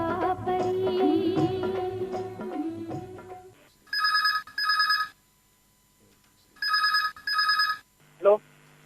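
A telephone rings for a caller phoning in to a radio phone-in programme on All India Radio Akola. Music fades out, then two bursts of double rings sound clearly, each burst about a second long, followed by a short click.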